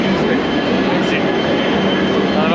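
Dense, constant roar of Jaipur railway station noise, a loud broadband hum with a rumbling train presence and indistinct murmur underneath.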